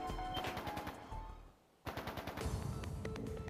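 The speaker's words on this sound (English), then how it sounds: "Gunfire from deeper in." Rapid machine-gun fire in Trails of Cold Steel 3, a dense stream of shots in sustained bursts split by a brief pause, sounding fairly distant and subdued.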